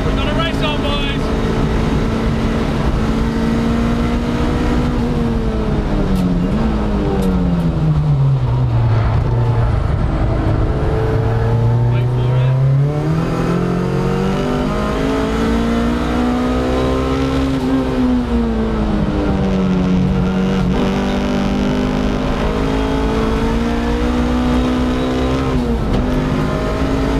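Race cars in a 750 Motor Club Roadsports race at Snetterton circuit, among them a BMW, accelerate across the line, engines rising and falling in pitch as they pass. The sound is loud and continuous, with commentary running over it.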